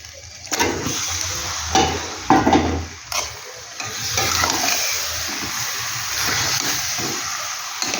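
Chicken pieces coated in yogurt and chili powder hit a hot pan for Bengali chicken kosha, giving a steady close sizzle with a few stirring scrapes and clatters, no talking.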